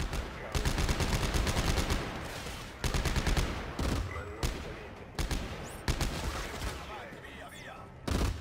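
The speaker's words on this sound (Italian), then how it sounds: "Esplosioni." Dense, rapid gunfire and explosions from a co-op session of the sci-fi horror shooter Dead Space 3, arriving in loud sustained bursts separated by brief gaps, with players faintly talking underneath.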